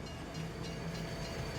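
A rented train reverses slowly to park across a road in Farming Simulator 22, its low rumble and rolling rail noise holding steady and fairly quiet throughout.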